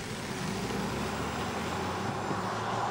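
A 2024 Mitsubishi Outlander PHEV plug-in hybrid pulling away from a stop in power mode, a smooth, steady low road and motor rumble with tire noise that builds slightly, fairly quiet and without voices.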